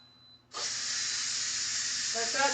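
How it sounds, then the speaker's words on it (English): Steam hisses out in a sudden loud, steady rush after a moment of quiet, continuing without a break until the end. "So we're going to let the steam out of these."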